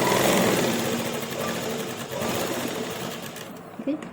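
A sewing machine makes a loose basting stitch on a kameez sleeve, a close, rapid mechanical whirring that slows and fades near the end, with a voice speaking over it.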